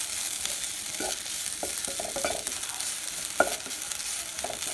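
Desiccated coconut dry-roasting in a pan over medium flame, stirred with soft repeated scraping strokes and a faint crackle, close but quiet, with no voices.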